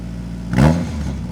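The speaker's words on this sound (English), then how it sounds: "Get a few revs." A turbocharged Nissan KA24DE-T car engine revs up in one short, loud burst, then settles back toward idle.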